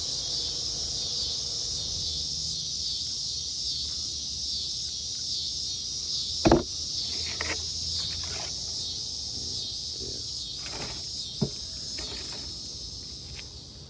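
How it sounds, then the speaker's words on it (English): Steady, high-pitched insect buzzing drones throughout, with a couple of faint knocks and rustles in the background. "And the cicadas just randomly started to talk"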